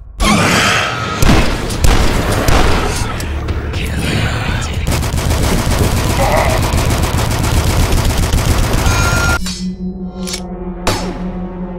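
Rapid gunfire in the PC shooter DUSK, sped up by a double-fire-rate cheat: dense continuous bursts for about nine seconds, then a sudden drop to a low hum with a couple of isolated sharp shots.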